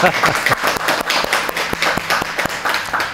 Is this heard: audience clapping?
yes